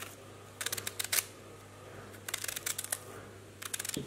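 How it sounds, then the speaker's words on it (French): Knife cutting through two endives, crisp rapid crunching strokes in three short bursts separated by quiet pauses, close up. "Je vais couper 2 belles endives."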